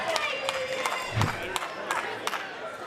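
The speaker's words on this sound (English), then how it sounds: "Crowd has been rooting for Orlando mainly this entire time" A crowd cheering and shouting at a Major League Pickleball Premier Level match in Miami, a loud sustained roar from a large audience with sharp paddle pops cutting through at intervals.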